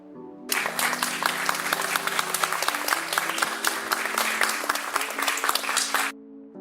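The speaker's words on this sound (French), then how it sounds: "quelques applaudissements quand même?" A crowd bursts into applause, dense and sustained clapping for several seconds that stops abruptly, with faint background music underneath.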